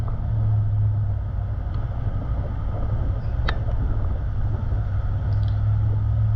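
Vehicle driving at about 30 km/h along a remote, little-used bush track in the Victorian High Country, a steady close engine and tyre rumble running throughout with a brief rattle midway.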